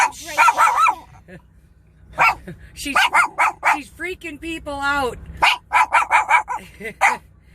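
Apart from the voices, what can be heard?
dog barking at passers-by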